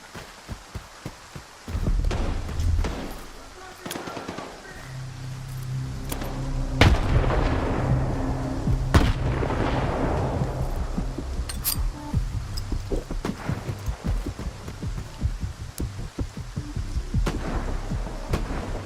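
Gunfire in the video game Stalker 2 rings out in scattered sharp cracks and heavier booms over a rumbling, rain-like ambience, some shots near and others distant, with no talking.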